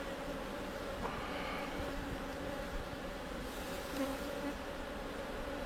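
Honeybees hum faintly and steadily around a hive frame heavy with honey, an even drone with no voices.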